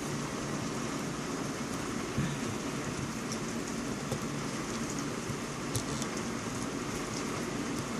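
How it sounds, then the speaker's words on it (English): Continuous rain from a thunderstorm falling steadily, a dense hiss with occasional heavier drips, no voices. "We got a thunderstorm going on outside, so you might hear rain."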